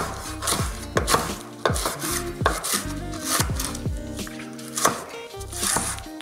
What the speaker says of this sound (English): Give that a quick bash. And we're going to cut that up to just help it blend.